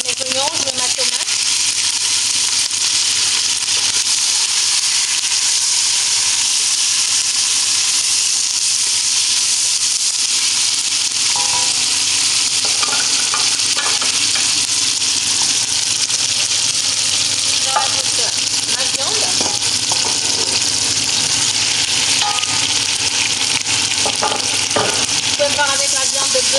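Onions and tomato frying in hot palm oil for a Togolese adémédéssi sauce, a steady dense sizzle running throughout with scattered stirring clicks and scrapes, close and fairly loud; no speech over it.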